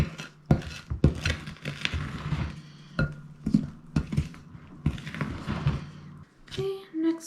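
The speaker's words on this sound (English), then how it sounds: "And now we're going to stir this up." Cookie dough is stirred in a bowl, giving repeated sharp clinks and scrapes of a utensil against the bowl in an irregular rhythm, close and fairly quiet, with no one speaking.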